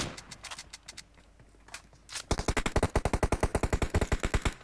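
Gunfire in the PUBG video game: a few scattered shots give way to a loud, rapid automatic burst of evenly spaced cracks that fills the second half.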